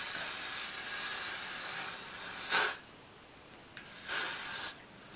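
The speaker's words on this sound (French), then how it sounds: "ensuite, je vais venir prendre le spray Got2b" Got2b hair spray is sprayed onto a wig in two short hissing bursts, the first sharp and brief, the second a little longer, over a quiet background.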